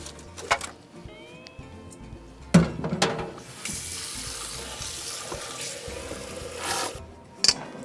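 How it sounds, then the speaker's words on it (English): A mixing bowl is rinsed under a running kitchen tap, water splashing and rushing into the sink with a few knocks and clatters of the bowl, close by and without talk. "I'm gonna quick wash my bowl here."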